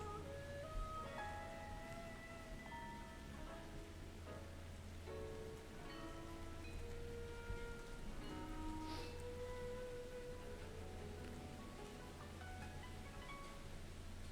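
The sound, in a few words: rain falling outside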